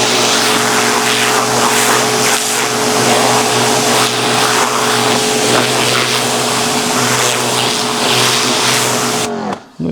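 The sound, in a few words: Kolner KHPW 2700IFR pressure washer running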